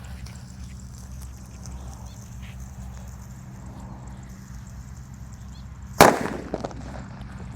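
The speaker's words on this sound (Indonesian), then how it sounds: "Seperti itu suara mercon petir." A mercon petir paper-wrapped firecracker explodes in one sharp, loud bang at about six seconds, with a short crackle and echo after it, over a steady low outdoor hum.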